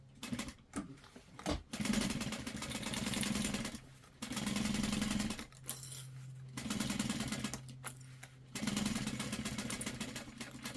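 A sewing machine stitches around a mini backpack in several sustained runs with brief pauses between them, steady mechanical hum up close with no talking.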